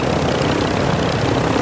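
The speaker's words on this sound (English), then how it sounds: "the enemy attack helo is moving in your direction" Attack helicopter drawing near in a combat video game, a steady loud rotor and engine drone that fills the whole clip without a break.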